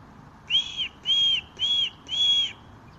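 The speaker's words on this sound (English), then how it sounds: "I whistle, she whistles back." Four clear, shrill whistled notes from a person, evenly spaced over a few seconds, the first short and the rest held longer, close and alone against a quiet background.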